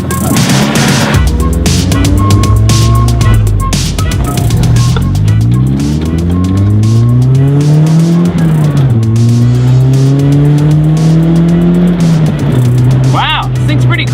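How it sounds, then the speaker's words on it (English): A 1988 car driven on the road, its engine loud and close, revving up through rising pitch sweeps and shifting gears several times, with wind and road noise and a person talking over it. "let's take it for a little drive before we tow this thing home."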